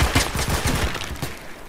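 Gunfire in the Roblox shooter Phantom Forces: a rapid, fairly loud burst of shots in uneven bursts across under two seconds, with no talking over it.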